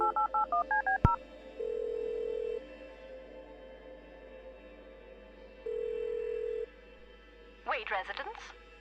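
A phone number being dialed in the Kathy Rain video game: a quick run of keypad tones, a sharp click, then two long steady ringback tones separated by silence, and a brief garbled burst at the end.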